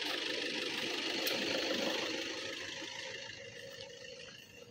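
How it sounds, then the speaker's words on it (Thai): A car engine idles with a steady, low mechanical hum that slowly fades and softens over a few seconds, with no talking. "เธอดับเครื่องรถก่อนก็ได"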